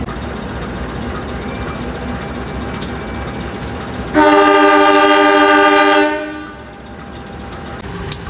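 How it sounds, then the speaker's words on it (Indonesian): The Doho passenger train arrives at Tarik station with a steady rumble, then a loud, close horn blast sounds for about two seconds before the noise settles back down. "Perjalanan kereta api Doho sudah tiba di stasiun Tarik"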